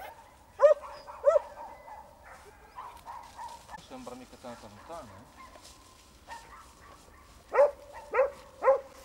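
Scent hounds bay while trailing a hare during a hunt, giving several sharp, ringing cries at the start and a burst of three at the end, with quieter dog noises and someone speaking in between.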